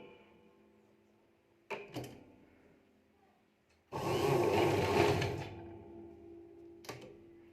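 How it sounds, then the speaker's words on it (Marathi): A sewing machine stitches a blouse in one loud, steady burst of running lasting about a second and a half, with a couple of short clicks and knocks before and after it. "सरळ सरळ नॉर्मल पद्धतीने बघा टीप टाकत घ्यायची आहे"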